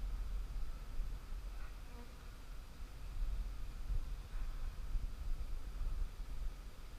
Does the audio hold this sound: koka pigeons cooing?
no